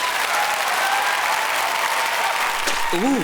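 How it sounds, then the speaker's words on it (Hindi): Steady, loud applause from a crowd in a cartoon fills the whole stretch, dense clapping without pause, with a brief whistle-like tone near the end. "एक बार जोरदार तालियां हो जाएं"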